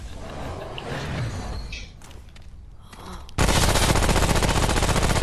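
Gunfire in the video game Remnant: From The Ashes starts as muffled shots under scattered noise, then breaks into loud, dense, continuous automatic fire that runs to the end.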